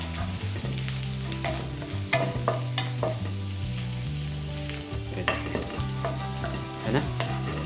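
About a teaspoon of garlic frying in a pan for a peri peri chicken and cheese stuffed mushroom dish, a soft continuous sizzle with regular stirring scrapes and light utensil taps, no voices.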